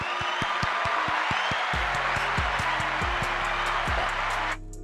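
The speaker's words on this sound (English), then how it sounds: "Round of applause." Applause greeting a guest on a podcast set, a continuous clapping wash over a pounding music beat with deep bass hits, cutting off abruptly near the end.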